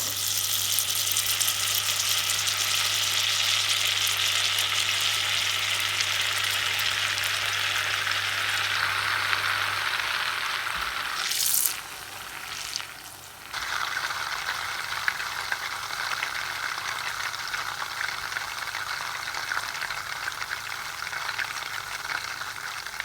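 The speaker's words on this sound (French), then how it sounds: "La première étape consiste à faire fondre le beurre dans une casserole." Steady loud sizzling of butter browning in a saucepan, continuous throughout, with a brief dip and a short high squeal partway through.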